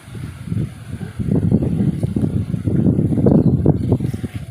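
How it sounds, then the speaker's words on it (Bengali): Gusty wind over a pond bank buffets the microphone in low rumbling bursts, rising and falling continuously outdoors on a rainy morning. "সেরকম বাতাস লাগতেছে"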